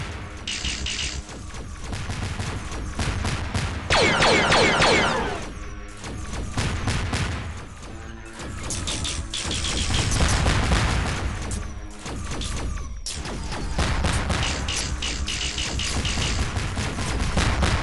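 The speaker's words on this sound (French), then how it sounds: "Putain, mais il tire de partout." Enemy ships in an X-Wing flight video game fire continuous volleys of rapid blaster shots and explosions, dense and loud throughout, with brief dips between bursts.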